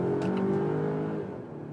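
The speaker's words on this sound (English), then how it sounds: "And you also hear the combustion engine then." A Volvo XC90's combustion engine revs and accelerates with a steady rising hum, close by, then eases off.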